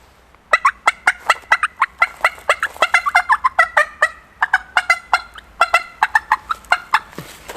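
Turkey call imitating hen turkey cutting in an unrealistic way, rapid loud sharp clucks in irregular bursts over several seconds, close and alone without talk.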